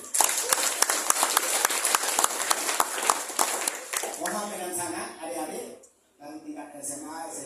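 An audience at a Balinese Hindu Dharma Tula gathering during the 62nd Pujawali ceremony applauds loudly for about four seconds with dense, steady clapping. The clapping then fades as a voice begins speaking.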